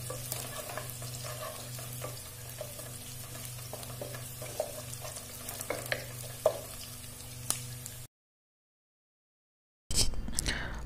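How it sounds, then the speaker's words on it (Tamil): Onions frying in a pan for ghee rice crackle at a moderate level, with scattered clicks and scrapes from stirring. The sound cuts out into brief silence near the end, then the sizzle returns. "அது ஒரு 3/4 பங்கு வெங்காயத்தை போட்டு நல்லா வதக்குங்க"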